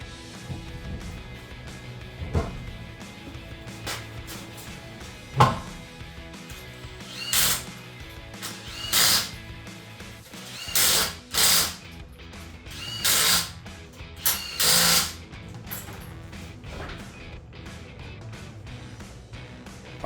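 Ratcheting wrench clicks in short repeated bursts while lug nuts go back onto aluminum wheels of a Jeep Wrangler JK after a brake job, with quiet gaps between runs.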